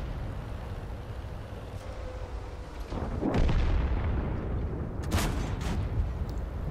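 Tank cannon fire in World of Tanks: a deep, booming shot lands midway over a low rumbling background, followed by a second sharper crack and its echoing tail.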